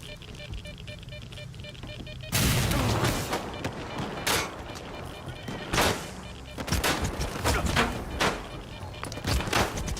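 Enemy gunfire in STALKER 2, scattered shots and short volleys cracking out after a quiet stretch, loud and close.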